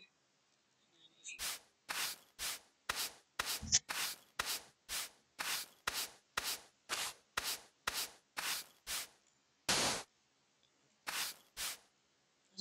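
A brush tool sweeps across sand in the Minecraft video game, making a run of short, evenly spaced scratchy strokes that stop briefly near the end and then resume for a few more.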